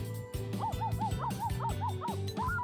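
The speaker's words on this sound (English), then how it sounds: "I could hear Kotarou barking" A dog in a visual novel game barks repeatedly in quick, regular yips with a whiny, tonal edge over a steady low hum of background music.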